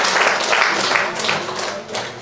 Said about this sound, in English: Please let's give this woman a round of applause.